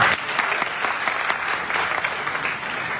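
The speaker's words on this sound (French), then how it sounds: "nous vous remercions sous vos applaudissements" Audience applause at a public debate event, a dense, steady round of clapping from many hands, moderately loud and sustained throughout with no speech over it.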